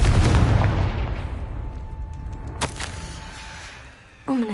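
A Confringo blasting spell explosion in the Hogwarts Legacy video game bursts loudly at the start, then a rumbling tail decays over several seconds with a faint ringing tone and a small follow-up crack.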